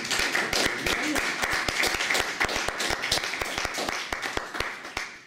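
An audience applauds a speaker at the close of a French philosophy seminar, steady dense clapping from many hands in a room that carries on without a break.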